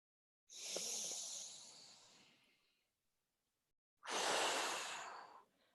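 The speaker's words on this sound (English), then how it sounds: "I'll demonstrate a deep breath" A slow, deep breath for meditation, made of a long breathy inhale that fades out, then a pause, then a stronger, airy exhale, close and quiet with no talking.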